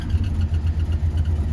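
A cold 2000 GMC 4x4 truck engine idles low and rough with a steady, uneven rumble and slight pulsing, close and continuous without talk.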